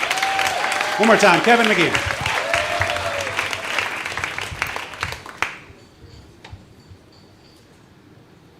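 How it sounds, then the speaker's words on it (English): Audience applause at a live storytelling slam in Los Angeles fills the room for several seconds while a host speaks over it, then fades out into quiet. "Keep that applause going for Kevin McGeehan."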